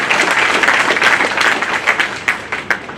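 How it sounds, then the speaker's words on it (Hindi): Loud, dense applause from an audience welcoming a speaker at a bar council legal cell gathering. It sustains steadily for about three seconds, with a few sharper claps standing out near the end. "जोरदार तालियों से मैं उनका स्वागत करना चाहूंगा"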